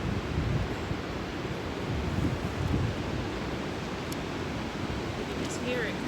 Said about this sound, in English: So we are getting some good gusts out here,